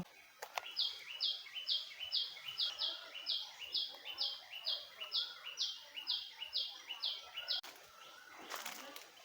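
A bird calls close by in a Konkan orchard in April, giving a steady run of about twenty bright, evenly spaced notes before a short rustle at the end.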